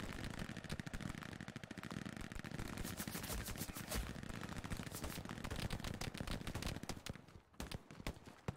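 Sustained gunfire in the World War II shooter Hell Let Loose, dense overlapping machine-gun and rifle bursts crackling almost nonstop near and far, briefly thinning near the end.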